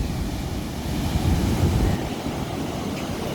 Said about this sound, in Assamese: কি বিশাল বিশাল ঢৌ